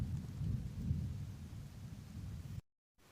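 Steady rain pours outdoors in a wild mushroom patch under eucalyptus trees, a dense low wash with distant thunder rumbling beneath, running unbroken before cutting to near silence at the end.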